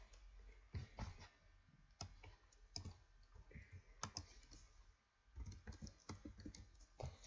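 Keystrokes on a computer keyboard while writing Java code, with quick bursts and short pauses, close and fairly quiet, with no talking.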